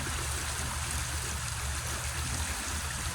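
Coldwater Creek, a branching creek in Florissant, flows in a steady, close rushing wash of water with no pauses and no voices.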